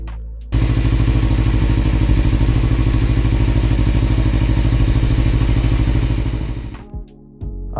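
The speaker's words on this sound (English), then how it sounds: "I was keen to hear the bike run under its own power." A motorbike engine running on its own power just after a battery replacement, a steady loud idle with a firm, rapid thumping pulse that holds for about six seconds before cutting off, with a brief rattle afterward.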